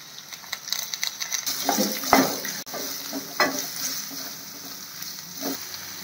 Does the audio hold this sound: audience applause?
no